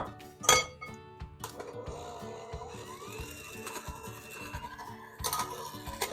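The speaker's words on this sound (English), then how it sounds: "Mixing this together now." Ingredients stirred together in a bowl for homemade black tooth powder, with soft scraping and rubbing strokes broken by a few sharp clinks of utensil on the bowl, close and fairly quiet.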